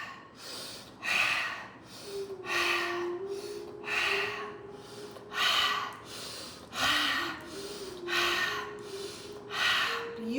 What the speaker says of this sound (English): you're going to inhale here and you're going to exhale to open